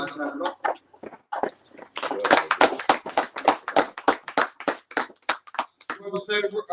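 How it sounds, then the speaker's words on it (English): Group hand clapping in a classroom-style setting, with scattered claps and talk at first, then a run of quick, uneven claps with voices mixed in and chatter near the end. "Clap it up."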